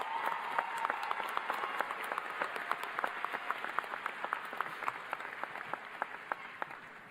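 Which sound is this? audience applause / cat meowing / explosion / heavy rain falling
audience applause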